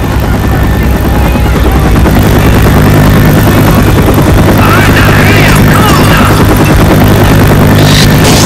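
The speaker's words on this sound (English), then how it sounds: "helicopters here" Helicopters fly in a video game, a loud, steady rotor thrum with a constant low drone that fills the scene, with brief crashing game effects toward the end.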